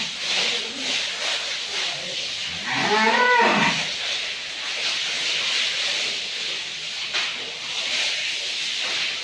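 A young bull on a dairy farm in Gazipur lets out one loud, close moo in the middle, with barn rustling and faint background noise around it.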